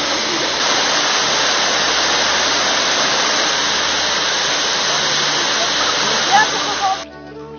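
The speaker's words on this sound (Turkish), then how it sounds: "Manas'ın kasesi olarak adlandırılan Avucu adlı şelale, dağların arasından gelip gürül gürül akıyor" Avucu waterfall, known as Manas's bowl, roaring between mountains in Kyrgyzstan; a loud, dense, continuous rush of falling water that holds steady for several seconds before cutting off near the end.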